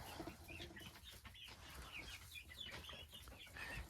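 Hens cluck softly and irregularly in a steady outdoor background, with scattered short calls and faint rustling, no voices.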